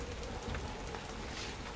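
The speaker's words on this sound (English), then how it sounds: "The rain drives on." Steady driving rain hisses and patters on the ground as a dense, unbroken wash of sound with no voices.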